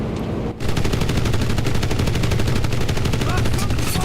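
Rapid, continuous machine-gun fire in the WWII shooter game Enlisted, loud and close, with dense bursts running almost without pause after a brief gap near the start.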